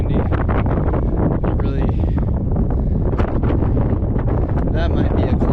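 Strong wind blows outdoors at a rocky bouldering and slab climbing area, a loud steady buffeting on the microphone that runs the whole time, with a person talking briefly over it.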